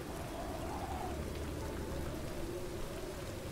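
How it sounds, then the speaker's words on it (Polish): Steady rain falls in The Witcher 3 fan DLC Song of Wind, a continuous even hiss of downpour with a faint tonal drone beneath it and no voices. "niby słychać ten deszcz, ale przestał nagle padać"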